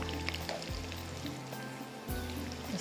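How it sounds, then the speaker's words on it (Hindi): French fries frying in hot oil in a kitchen, giving a soft continuous sizzle and crackle with a low hum beneath, faint and steady throughout. "यहाँ पर फ्राइज़ जब फ्राई होंगे"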